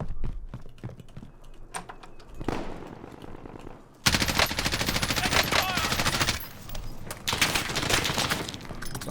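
Rapid automatic gunfire in the battle royale video game Call of Duty Warzone, quieter at first and then erupting into loud, sustained bursts with a brief lull before resuming.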